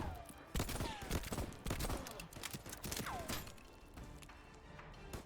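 Gunfire in the video game Void Train comes as scattered sharp shots and impacts mixed with whooshing game effects. It is fairly dense for the first few seconds, then thins out to quieter background sound.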